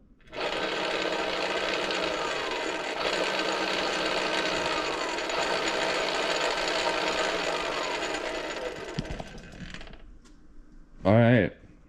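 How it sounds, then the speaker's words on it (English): A Bafang BBSHD electric bike mid-drive motor, run through a VESC controller, spins up on the throttle with a steady, busy whirring drone for about nine seconds, then winds down; a voice speaks briefly near the end. "motor's spinning"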